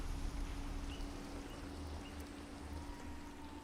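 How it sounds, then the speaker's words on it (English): Rain falls in a Minecraft world, a soft continuous patter and hiss at low level, with a faint steady tone underneath and no talking. "Of course it's raining."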